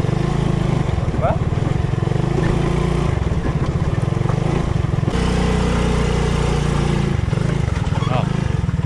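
A motorcycle with a broken clutch cable idles along in fourth gear, its engine a loud, steady, throbbing drone throughout, with a brief dip in the middle.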